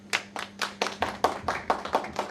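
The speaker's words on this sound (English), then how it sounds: "Please welcome her with a huge round of applause." About ten distinct hand claps ring out in an even, fairly quick rhythm as an audience welcomes a guest, a woman law professor, at an international human rights conference, with no one talking over them.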